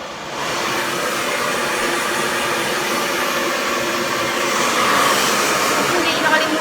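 A hair dryer blows hair in a continuous loud, breathy roar with a steady whine, close to the listener and running without pause.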